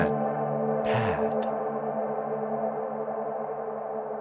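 Soft ambient synth pad washed through a lush, atmospheric Bloom reverb plugin from UVI, sustained droning tones with a brief airy swell near the start, steady and fairly loud with no voices.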